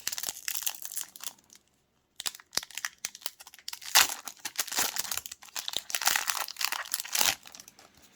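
A Pokémon Battle Styles booster pack wrapper is crinkled and torn open up close, giving bursts of sharp crackling and rustling with a brief silent pause before louder tearing and crumpling.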